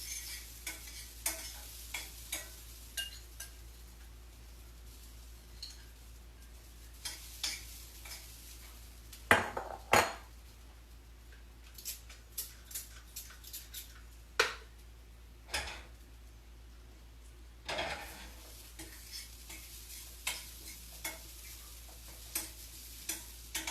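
Chopped sage being stirred into a sweet potato and walnut filling gives soft scraping and stirring with scattered clinks and taps of a utensil against a bowl, quiet and close, with a faint sizzling hiss in the background.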